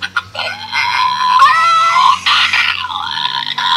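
A shrill electronic toy chicken, a Cuckoo Chicken, squawks and clucks continuously, its warbling cries rising and falling loudly with no talking.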